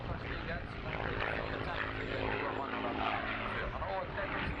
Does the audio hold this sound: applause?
no